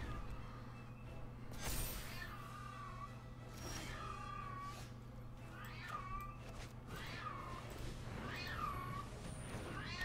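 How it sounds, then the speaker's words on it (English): Cartoonish cats meow and yowl in a card game, about six drawn-out cries arriving every second or two. The cries are faint and sit over a quiet hum. "And you can hear some cats in the background."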